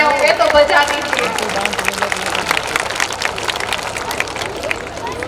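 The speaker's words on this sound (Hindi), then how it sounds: "आ रही हैं अच्छी खासी तालियां आ रही हैं" A school audience applauds a children's stage performance, with dense clapping running throughout, a voice speaking over the start and crowd murmur underneath.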